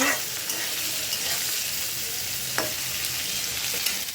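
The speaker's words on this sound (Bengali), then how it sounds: "এই যে এখানে করলা ভাজা হচ্ছে" Bitter gourd frying in a pan gives a steady, dense sizzle that continues throughout, with a few faint clinks of stirring.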